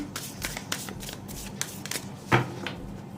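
A deck of animal oracle cards is shuffled by hand, giving quick, soft riffling and flicking sounds close by, with one sharper tap near the end.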